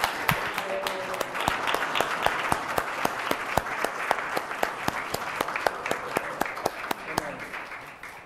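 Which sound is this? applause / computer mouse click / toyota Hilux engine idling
applause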